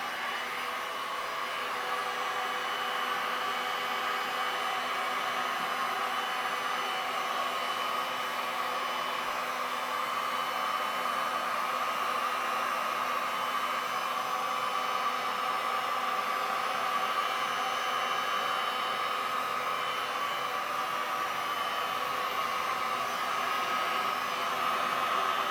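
Heat gun blasting hot air over thick poured resin on a Bermuda pink sand beach painting, a steady loud broadband whoosh running unbroken for the whole stretch with no pauses.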